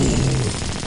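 Rapid automatic gunfire from an animated cartoon robot battle, a dense continuous burst of loud shots with no pauses, filling the short moment with no talk.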